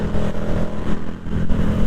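KTM motorcycle accelerating hard, a loud, close engine roar with rising revs and brief shifts in pitch over a couple of seconds.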